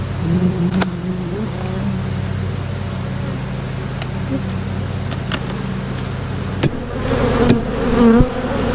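Honey bees swarm and buzz around an open hive while a frame is being worked, a steady close drone with a few sharp knocks and clunks of hive parts toward the end.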